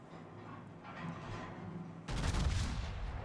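Warship guns firing a broadside in World of Warships, a sudden heavy boom that bursts over a low game rumble and rolls on for about a second, loud and close, no talking.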